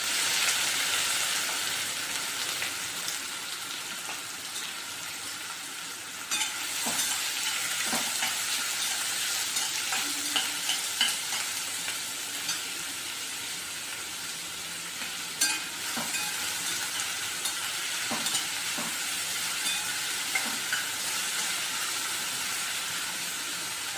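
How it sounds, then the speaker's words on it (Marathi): Finely chopped onion sautéing in a pan with asafoetida, a steady close sizzle and hiss under scattered clicks and scrapes of stirring, with no talk. "कांदा छान परतून घ्यायचा आहे।"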